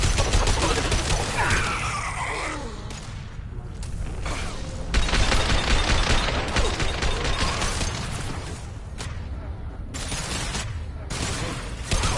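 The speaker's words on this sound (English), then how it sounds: "Firing a high-impact shot." Repeated heavy gunfire bursts and booming impacts from high-impact shots in Mass Effect 2 on PS5, loud and dense across the whole stretch with game combat noise and no pauses.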